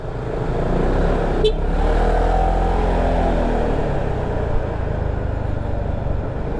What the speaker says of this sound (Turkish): Oralarda trafik başladı.